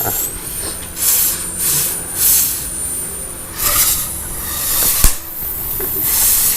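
A gas torch with a blue flame cuts through a Yamaha Exciter motorcycle frame: a loud, continuous roaring hiss that swells and fades in waves, with one sharp metallic clank partway through.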